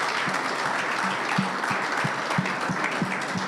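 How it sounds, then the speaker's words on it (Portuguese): A church congregation applauds, a steady wash of clapping hands holding at an even level throughout, with soft rhythmic low thumps pulsing underneath. "Vamos dar uma salva de palmas ao Senhor."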